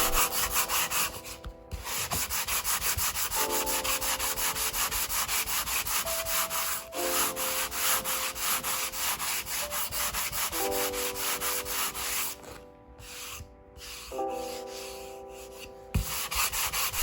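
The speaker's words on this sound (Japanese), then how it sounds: "サンドペーパーは180番を使っているんですが、全然力入れずに研磨してます。" Steady back-and-forth strokes of 180-grit sandpaper rubbed by hand over dried wood filler putty on a peeling veneer floorboard, repeated rasping passes in rhythmic bursts with short pauses, close and alone.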